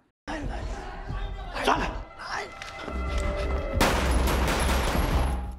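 Gunfire in the film Hotel Mumbai as police with pistols fire on terrorists attacking the hotel: a few sharp cracks, then a loud, sustained burst of shooting, with voices mixed in.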